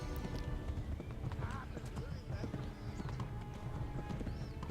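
Horse hooves gallop in the forested medieval world of the video game Kingdom Come: Deliverance, a fast, steady clip-clop rhythm that runs without break and sits close and prominent over faint background game sounds.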